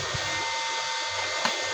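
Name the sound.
electric blower running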